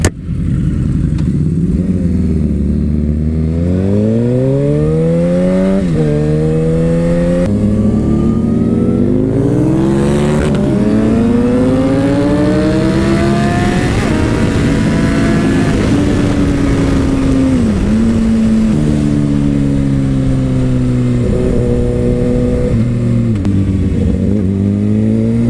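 A Suzuki GSX-R 750 motorcycle accelerating on a short ride, engine note climbing sharply through the gears again and again with brief dips at each shift, loud and close from start to finish.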